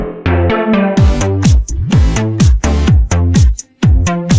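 A Serum synth bass drenched in 100% hall reverb plays a bouncy, repeating pattern of short punchy notes with pitch drops, loud and close, each hit trailing into washy reverb.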